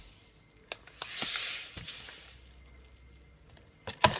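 Granulated sugar being stirred into carrot, pineapple and strawberry juice: a spoon clinks sharply against the container several times, with a soft swishing swirl between the taps, close and fairly quiet.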